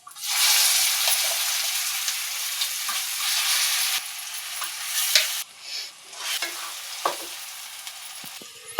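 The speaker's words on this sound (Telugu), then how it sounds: "ఈ తాలింపులో ఇప్పుడు మనం మిక్సీ పట్టిన గోంగూర పచ్చడి వేసుకున్నాం." Ground gongura and dried red chilli chutney dropped into hot tempering oil, a loud bright sizzle that settles into sputtering and stirring with occasional pops and scrapes.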